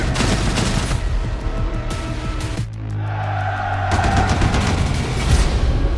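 Heavy naval gunfire in a WWII destroyer battle sequence from a war film trailer: dense rapid bursts and booming shots, a brief rumbling lull, then more loud volleys.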